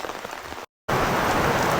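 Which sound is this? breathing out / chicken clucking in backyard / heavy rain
heavy rain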